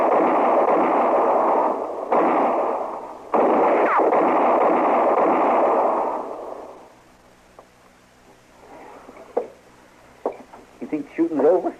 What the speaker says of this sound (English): You think shooting's over?